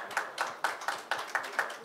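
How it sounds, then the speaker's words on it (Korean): Several distinct hand claps in a steady, even rhythm, close and fairly crisp, at a Korean forum as a moderator welcomes a university professor onto the stage. "여러분 큰 박수 부탁드리겠습니다."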